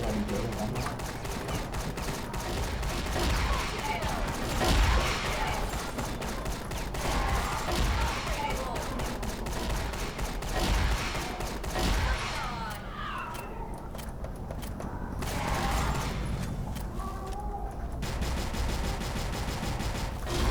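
Rapid bursts of Holy Shotgun fire in the shooter game CrossFire, loud repeated blasts across the whole stretch with brief pauses, mixed with game mechanism noises.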